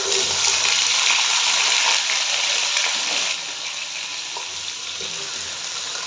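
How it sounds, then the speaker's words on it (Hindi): Potatoes and eggplant sizzling hard in hot oil over high heat, a dense steady hiss that drops a little in level partway through and carries on without talk. "इसी तरह से तेज़ आंच के ऊपर हमने आलू को बैंगन को फ्राई कर लेना है"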